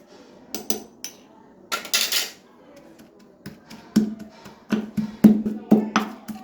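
Spices with Kashmiri red chilli are crushed again in a mortar, giving a series of sharp irregular knocks and grinding thuds, close and loud, with quieter pauses between the bursts.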